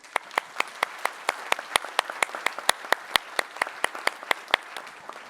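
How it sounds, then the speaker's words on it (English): Clapping rings out at a steady rhythm at a conference opening plenary, sharp distinct claps close by, more like a small group applauding than a large crowd. "Let's give them a warm round of applause."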